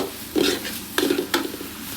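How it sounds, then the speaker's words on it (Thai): Minced shrimp with curry paste and fish sauce is stir-fried in a pan, with three short scraping stirs of a utensil over a soft sizzle, close and fairly quiet, with no talk. "ตามด้วยน้ำปลา ผัดคลุกเคล้าให้เข้ากัน"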